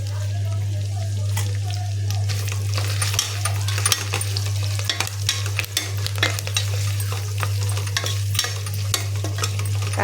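Curry leaves and stems sizzling in hot oil for sambar: a steady frying crackle with scattered pops and stirring clinks over a constant low hum, close by.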